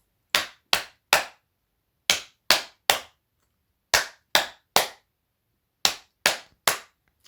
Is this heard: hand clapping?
yes